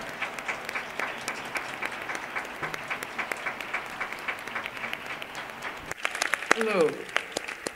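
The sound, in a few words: audience applause welcoming Dr. Angela Davis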